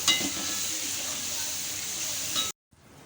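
Tomato and onion sautéing in oil over a low-to-medium flame, a steady close sizzle and hiss with faint stirring, running for a few seconds before cutting off abruptly.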